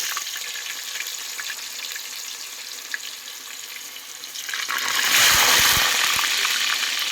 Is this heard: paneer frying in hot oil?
yes